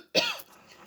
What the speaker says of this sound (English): I couldn't speak and coughing crazily